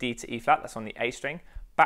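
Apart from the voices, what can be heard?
No everyday noises stand out.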